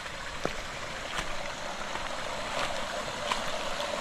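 River water falling and flowing at a spillway, a steady broadband rush with occasional splashes, continuous and fairly close.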